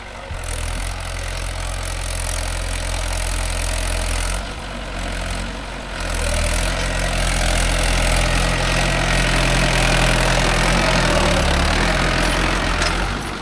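A Mahindra 575 DI tractor works with a 9-tine cultivator on dry farmland. Its engine runs in a loud, continuous, low drone close by, dipping briefly in the middle before settling back to a steady roar.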